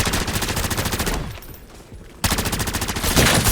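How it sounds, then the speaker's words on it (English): Rapid automatic gunfire blasts loudly in Modern Warfare Zombies, stopping for about a second before the sustained bursts resume with dense, rattling shots. "just shoot them in the head and that's it"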